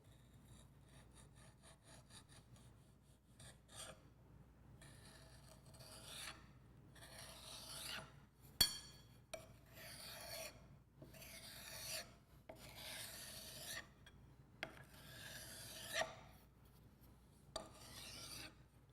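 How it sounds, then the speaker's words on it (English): A straight edge scrapes and rasps across compacted soil to trim it smooth on top of a Proctor compaction mold, in repeated gritty strokes, each close and fairly loud, with brief pauses between them. "Using the straight edge, trim smooth the top of the soil mold."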